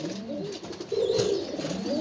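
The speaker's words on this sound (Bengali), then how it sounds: "খুব চঞ্চল কবুতরগুলো" Budapest pigeons cooing, a soft low coo swelling in the middle of the short stretch over a faint background hum, close by and with no talk.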